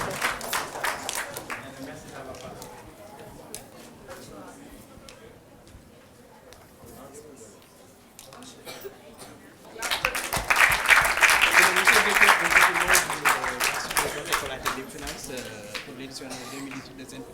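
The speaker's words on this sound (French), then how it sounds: "Applaudissez" Applause breaks out at a children's competition final in Senegal, loud and sustained crowd clapping swelling up after quieter murmuring and talk in a hall.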